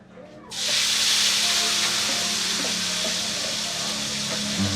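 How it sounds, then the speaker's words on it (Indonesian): Spice paste for papari sauce dropped into a hot pan, bursting into a loud, sustained sizzle that settles into a steady frying hiss, close up and alone. "adonan bumbu yang telah dibuat ditumis kembali dan ditambahkan sedikit santan kental"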